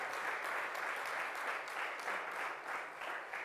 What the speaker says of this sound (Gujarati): આપણે તાળીઓના ગડગડાટથી એમની ભક્તિને વધાવીએ